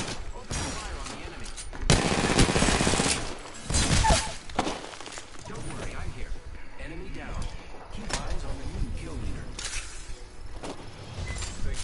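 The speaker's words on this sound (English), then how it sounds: "Open fire on the enemy." Bursts of gunfire in the battle royale game Apex Legends, with loud clustered shots and impacts around two and four seconds, then scattered lighter pops, while players talk over the action.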